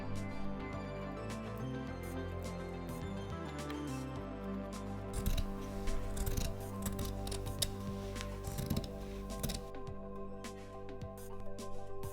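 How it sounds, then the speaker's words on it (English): Scissors snipping through a small folded fabric remnant, quiet crisp cuts scattered over a faint low hum, close and soft, with no voices. "You're not supposed to cut fabric while folded because you waste a lot of material."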